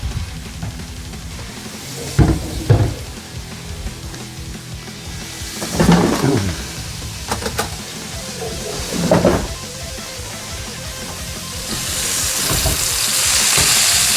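Thick sirloin steaks hit a hot pan and sear with a steady broadband sizzle, swelling in a few louder bursts as the meat is laid down and moved, close and continuous with no talk.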